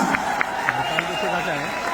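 Crowd at a Vestige award function in Delhi applauds the Nepal delegates, steady loud clapping with a few sharper claps standing out, while a voice talks over it.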